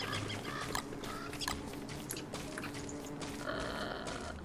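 Game sound of a chicken-like bird clucking in Don't Starve Together, a few clucks of moderate loudness over a dense, busy bed of other in-game sounds.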